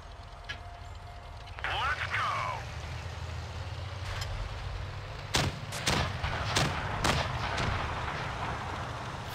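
Tank cannon fire in World of Tanks Blitz, several sharp booming shots arriving in a cluster over steady battle noise, with a player talking over it.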